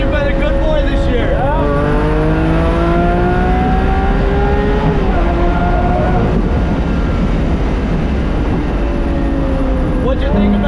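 A Lamborghini sports car accelerates hard with a loud, rising engine roar, and its gear shifts show as repeated sweeps. People's voices are heard over it throughout.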